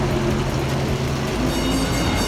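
An old train rumbles steadily at the Santa Cruz Beach Boardwalk, a close, continuous low mechanical drone with a faint higher whine over it, no talk.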